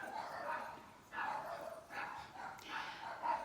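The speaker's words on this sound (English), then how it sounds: "This moment is interrupted by these dogs." Dogs barking indoors: several moderately loud, rough barks and yips come in short bursts about a second apart, with some whimpering mixed in.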